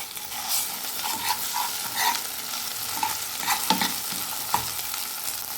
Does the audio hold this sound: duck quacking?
no